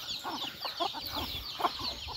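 Large roosters and chickens clucking nearby in a series of short, repeated calls over a low background rumble, with no one speaking.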